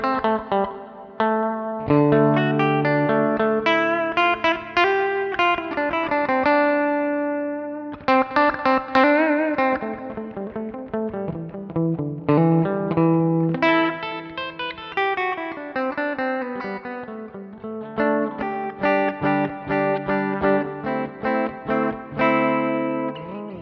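A clean lead electric guitar tone played through a Tech 21 Fly Rig 5 v2 with post boost and reverb, with continuous melodic single-note phrases and bends, close and steady, with no talking.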